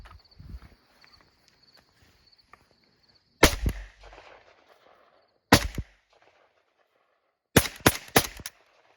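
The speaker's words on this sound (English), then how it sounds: "pull the trigger, it'll fire. You should have 5 rounds." Outdoor firearm shots: a single loud report, then a second after a pause, then a rapid cluster of closely spaced shots, sharp and near with brief echoing tails between quiet gaps.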